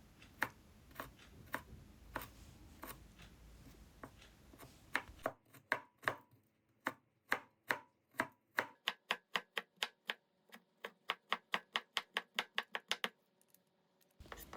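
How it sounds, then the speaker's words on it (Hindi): A knife chopping carrot into small cubes on a board, first irregular scattered cuts, then a long run of quick, evenly spaced sharp taps growing steadier and faster, close and crisp. "गाजर को इस तरीके से काटें, ये बहुत ही आसान तरीका है और बहुत छोटे छोटे से क्यूब्स बन जाते हैं।"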